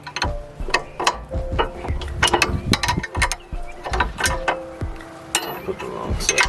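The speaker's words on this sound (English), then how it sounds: "Here's the wrench." Wrench ratcheting on a rear sway bar end link of a 2006 Acura MDX, a rapid series of close, sharp mechanical clicks in uneven bursts, with no talk.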